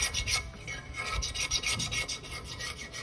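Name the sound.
back of X-Acto knife scraping epoxy off tumbler edge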